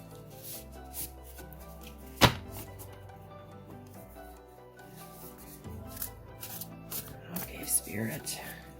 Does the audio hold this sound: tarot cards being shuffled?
yes